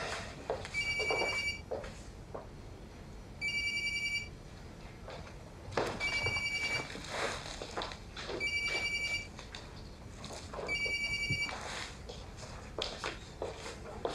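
A telephone rings faintly in a room in a Russian TV drama, five evenly spaced electronic rings with quiet background sounds between them.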